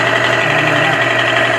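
A noisy, knocking car engine runs at idle in a workshop, giving a steady loud drone with a rough mechanical texture for a short stretch.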